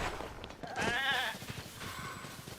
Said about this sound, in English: It reminds me of the goats in Twilight Princess.